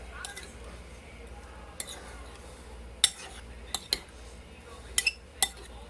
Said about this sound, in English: So you start with your sugar. Just mix that real good with your berries.